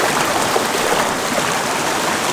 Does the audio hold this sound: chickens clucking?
no